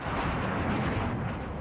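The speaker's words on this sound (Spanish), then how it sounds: "Los disparos de Hetman son devastadores" Rapid aircraft gunfire in an aerial dogfight, a dense continuous rattle of shots close and loud throughout, with no gaps or voices.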